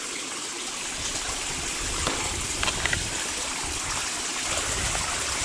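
Water rushing steadily through a stream channel, a continuous broadband splashing flow with a few brief louder gurgles, close and alone without talk.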